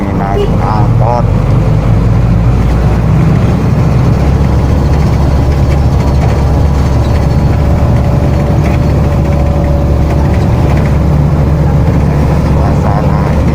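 An angkot minibus rumbles on a ride through Blitar, its engine a loud, constant low drone with traffic and road noise around it and no clear talk.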